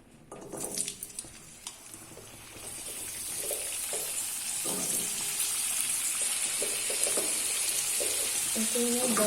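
Amla (Indian gooseberries) frying in oil in a pan over lowered gas heat for pickle, a broad steady sizzle building and holding, with scattered stirring clatters early on.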